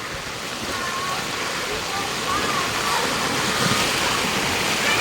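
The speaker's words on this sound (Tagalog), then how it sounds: "ang lakas ng agos" Loud, steady rushing of a strong floodwater current flowing down a street, a constant dense roar with no breaks, close by.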